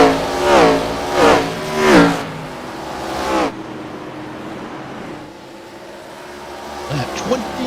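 Race cars in the KKA Grayson Series, a sim racing event, roar past the track three times in quick succession, each pass loud, rising and falling, then a quieter engine hum with another car approaching at the end.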